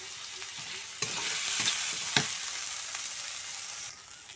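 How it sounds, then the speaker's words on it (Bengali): Pangas fish curry mixture frying in a pan, a steady close sizzle broken by several scraping stirs and a sharper clack of the spoon against the pan. "এই যে এটা লাল লাল করে একটু ভেজে নিলাম"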